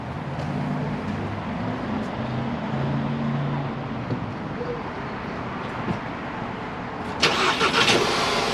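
A Volkswagen CC driving up onto a service ramp: a steady idling engine hum with low tones, then a louder burst of noise near the end as it moves up.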